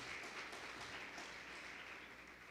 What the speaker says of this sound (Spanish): Dele fuerte palmas al Señor, alegres, hermano